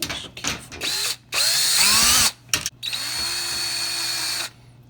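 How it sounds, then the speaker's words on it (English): A power drill whines up and down through several bursts while drilling out holes during a generator interlock installation, its motor pitch rising and falling as it bores into material, close and loud. "I'm going to drill out these holes carefully."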